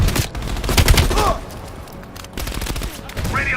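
Rapid bursts of machine gun fire from a dug-in emplacement in Call of Duty Black Ops Cold War, loud and dense, mixed with battlefield noise and a voice briefly heard.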